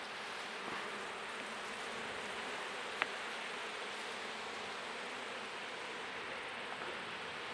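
Honey bees buzzing around hive frames as they are brushed off, a soft continuous drone close by with a faint brush sweep, no talking.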